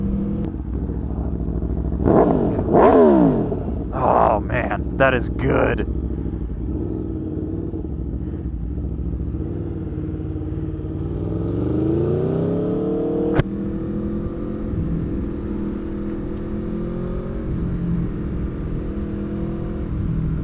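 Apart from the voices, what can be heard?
2021 Aprilia Tuono V4 motorcycle revving with new exhaust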